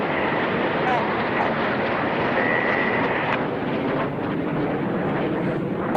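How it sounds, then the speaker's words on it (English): Supermarine Spitfire flying past at the Goodwood Festival of Speed, a steady loud engine roar mixed with wind rush, continuous throughout. "This is Spitfire."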